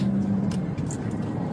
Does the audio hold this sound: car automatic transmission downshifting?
yes